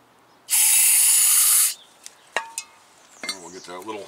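A single strong, steady spray of aerosol brake cleaner hisses onto the front brake parts of a Toyota RAV4 for about a second, followed by faint clicks and someone talking briefly.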